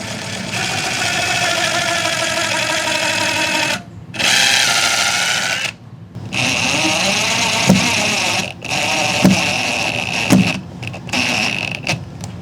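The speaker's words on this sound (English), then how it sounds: "I'll be drilling right through my vinyl plank flooring, and it's going to go straight to the subfloor" A power drill bores through vinyl plank flooring down into the subfloor, whining steadily and loudly up close in several long runs broken by short pauses, its pitch wavering as the bit bites in.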